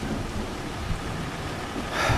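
Steady rain hisses with a low rumble of thunder underneath in the video game Farming Simulator 25, a continuous stormy wash that swells slightly at the end.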